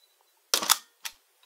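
A Mamiya RB67 medium format camera firing its shutter: a sharp double mechanical clack, then a single shorter click about half a second later, close and crisp against near silence.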